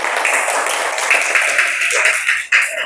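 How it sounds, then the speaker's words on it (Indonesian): Classroom applause for a group of students, a dense wash of clapping from many hands that carries steadily for about three seconds, with voices mixed in. "Berikan tepuk tangan untuk kelompok yang maju."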